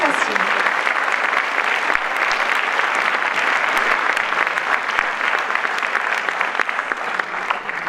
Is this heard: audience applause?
yes